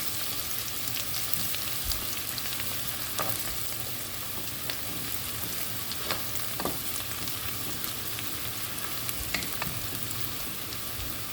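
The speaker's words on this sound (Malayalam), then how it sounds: "ഇനി നമുക്കിതൊന്ന് നന്നായിട്ട് മൊരിയിച്ചെടുക്കാം കേട്ടോ." Chicken pieces for chilli chicken fry in oil in a pan, a steady dense sizzle and crackle running throughout with occasional stirring scrapes, close and continuous with no talk.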